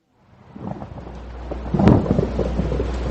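Steady rain with a deep rumble of thunder swelling from silence, building to a loud, continuous wash of rainfall with a rolling crack near the middle, no voices.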